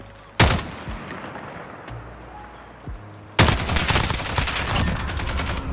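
An AS VAL suppressed rifle fires in the shooter Call of Duty: Modern Warfare. A single sharp shot comes first, then a long, dense, loud stream of automatic fire with other battle noise, and no one speaks.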